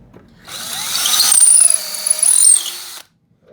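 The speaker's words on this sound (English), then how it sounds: "Gotta keep drilling." An electric drill whirs loudly for about two and a half seconds, its pitch shifting as it bites through a wooden wing spar, then stops abruptly.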